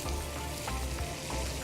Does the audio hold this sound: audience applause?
no